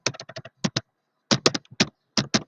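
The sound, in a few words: typing on a computer keyboard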